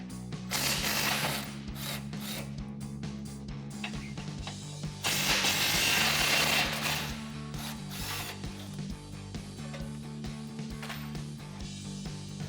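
A ratchet wrench loosens the skid plate bolts under a Jeep Gladiator JT near the exhaust, giving rapid, steady, close-up clicking in long runs over a low background hum.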